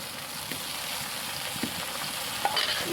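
Jackfruit chips fry in hot oil, and salt and turmeric water is sprinkled into the pan. The result is a continuous close sizzle with a few sharper crackles and spits as the water hits.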